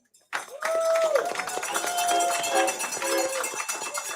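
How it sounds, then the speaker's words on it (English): Applause and cheering from a crowd at a football watch party break out suddenly and stay loud and steady, with whoops mixed in. "give another round of applause to these gentlemen right here"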